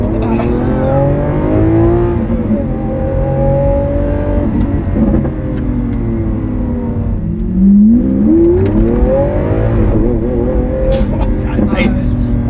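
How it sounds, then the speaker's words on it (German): Lamborghini Aventador S with its V12 engine revving hard in Corsa mode, loud rising and falling engine notes with quick gear shifts, close to the listener, with someone talking over it at times. "so sehr ich diesen V12-Sound liebe"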